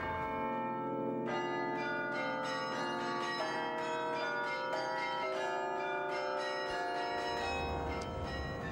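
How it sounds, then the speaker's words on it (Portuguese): Carillon bells at the Mafra convent ring out in a continuous, dense cascade of overlapping struck tones, loud and resonant throughout, with no voices. "os carrilhões cá estão, e vamos ver que ainda há quem os toque"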